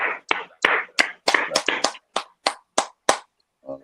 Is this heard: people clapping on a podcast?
yes